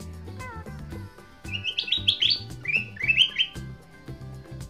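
Campo Troupial singing a series of clear, loud whistled phrases in the foreground, with steady low background music running underneath throughout.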